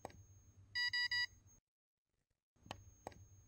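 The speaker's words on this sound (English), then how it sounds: "It beeps." An orthodontic curing light used during a braces fitting gives three short, evenly spaced electronic beeps, clear and close, set against quiet room noise and a couple of soft clicks.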